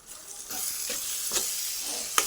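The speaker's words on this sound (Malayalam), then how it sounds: "നമ്മുടെ ബീഫ് റോസ്റ്റ് അവസാന ഘട്ടത്തിലേക്ക് എത്തിയിരിക്കുകയാണ്" Beef roast frying in a pan, a steady close sizzle with a few scraping stirs of a spoon against the pan, no voices.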